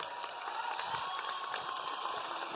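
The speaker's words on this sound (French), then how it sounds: "Oui, on peut les applaudir, on peut les encourager." A seated audience applauding at a regional Ma thèse en 180 secondes thesis-presentation final in Nantes, a steady dense patter of clapping hands from a crowd, moderately distant and without talk.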